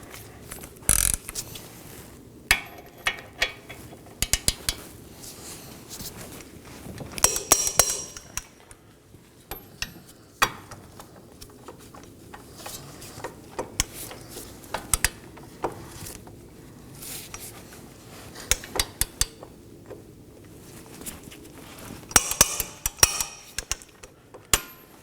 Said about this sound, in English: I'm going to snug these down with my 21mm